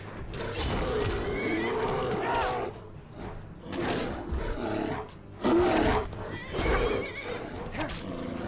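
A horse in Skyrim neighs and whinnies in several loud, close bursts separated by short pauses, with hoof clatter mixed in.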